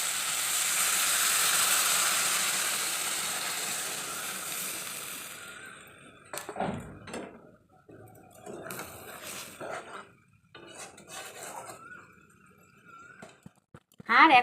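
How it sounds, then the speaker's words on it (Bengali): A bowl that held turmeric-and-salt-rubbed fish is washed in a home kitchen. A steady hiss of running water lasts several seconds, then stops and gives way to scattered clinks and knocks. "সেই বাটিটা আমি এখন ধুয়ে দিচ্ছি।"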